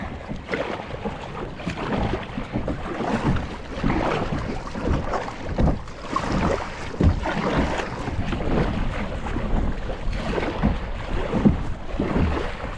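A kayak is paddled out into bigger waves during a tropical storm, with water sloshing and splashing against the hull amid gusting wind buffeting the microphone, continuous and close, with no talk.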